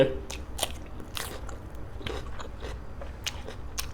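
Close chewing of crunchy boiled octopus served with seafood dipping sauce, with repeated crisp bites and wet crunching in an uneven rhythm.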